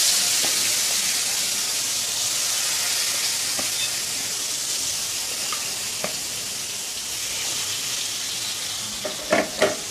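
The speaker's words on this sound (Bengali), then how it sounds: "আমি মাছ ভাজতে দিলাম" Fish fries in a pan with a loud, even sizzling hiss throughout, dotted with small pops and a few utensil clinks near the end.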